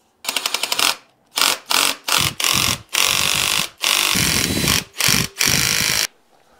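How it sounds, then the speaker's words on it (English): A power driver drives screws to mount a PowerMax PMTS-30 automatic transfer switch to a wall, with loud whirring bursts starting and stopping repeatedly, some short, some longer, close up with no talk. "Let's go ahead and see if we can screw it into the wall."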